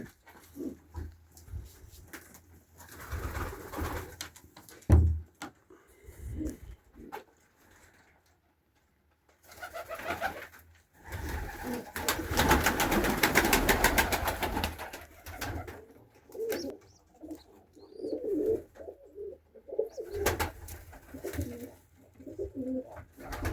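Pigeons coo nearby in low, throaty bursts on a morning at minus 15 degrees, with soft rustling and fluttering between calls and a brief quiet gap midway.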